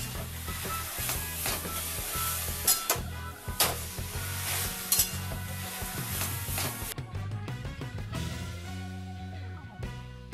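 Kochu shak, taro leaves, slow-cooking on medium to low heat in a pan, with a steady close sizzle and repeated scraping, clinking stirs of a spatula throughout, the sizzle thinning slightly near the end.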